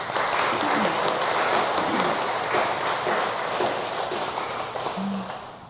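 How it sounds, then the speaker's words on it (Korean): A congregation at a Won Buddhist temple service claps together, a dense, steady burst of applause filling the room at close range before thinning slightly toward the end. "우리 모든 교도님들의 자신을 위해서 박수 한번 치시기 바랍니다"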